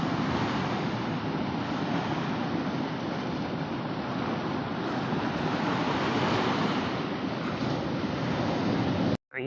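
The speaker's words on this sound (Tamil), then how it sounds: "இங்கே உட்காந்து அப்படியே வேவ்ஸ் இப்படி வருது, காலை அப்படியே நினச்சிட்டு போகுது" Sea waves wash steadily onto the shore at Pondicherry, a loud, continuous surf roar with wind buffeting the microphone, no voices.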